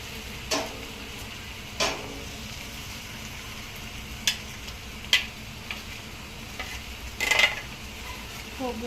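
Masala spices stir and sizzle in a hot pan for a Kokan-style vegetable dish, a soft steady fry broken by several sharp scrapes and clinks of a spoon against the metal.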